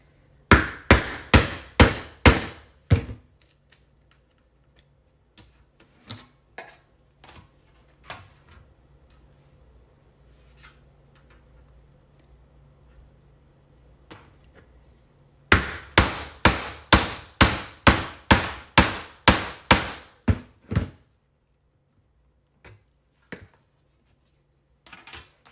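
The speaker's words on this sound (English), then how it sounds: "Take your hammer. Let me hit it a little more." Rapid bursts of sharp metallic hammer blows punching a hole, near and loud, in two long runs separated by sparse, quieter taps.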